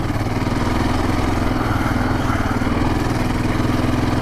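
A Yamaha Raptor 700R ATV engine runs on an off-road trail with a steady, loud, rhythmic throb. The thumping pulse stays constant throughout, with no talking.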